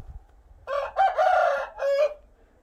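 A rooster crows on a farm where chickens are being fed, one full cock-a-doodle-doo with a longer middle note, loud and close over a faint low background rumble.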